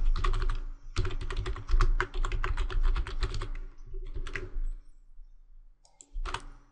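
Keys clatter on a computer keyboard in a rapid run of close, crisp taps, then slow into a few scattered clicks and short bursts toward the end.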